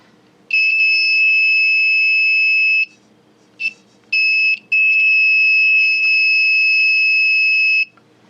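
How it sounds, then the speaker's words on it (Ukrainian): A piezo buzzer in a power outage alarm gives a loud, shrill continuous beep, stops, chirps briefly twice, then sounds again in a long steady tone. "І ось пищалка."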